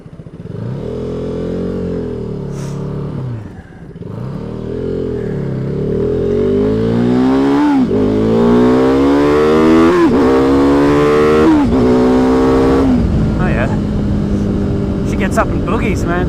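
A 2015 KTM RC390 motorcycle, fitted with Metzeler tyres, accelerates hard on a test ride, its engine climbing through several rising revs with clear gear shifts in between, loud and close throughout.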